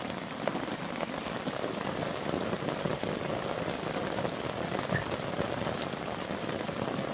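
Heavy rain drums on a tarp stretched over a hammock at a campsite, a dense, continuous close patter of drops with no letup.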